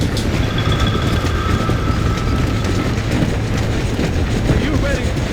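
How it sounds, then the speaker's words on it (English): A train rumbles steadily along the rails with a continuous low roar and faint metallic rattling, loud and close throughout, from Red Dead Redemption. "There is a train. We must escort it to Casa Madrugada."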